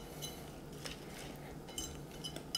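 Utensils clinking and scraping against a bowl while stirring thick chocolate lava cake batter, with soft repeated taps and a few sharper clinks near the end, close and fairly quiet.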